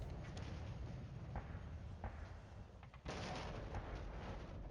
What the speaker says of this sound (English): Ooh, that's some heavy artillery coming in.